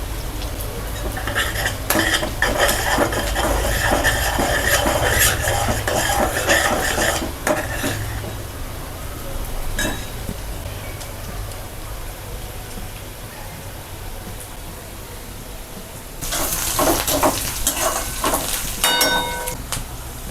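Metal spatula scrapes and clatters against a pan while misal masala is stirred and sautéed, with a steady sizzle underneath; the rapid scraping runs for several seconds, pauses, then resumes in a second burst.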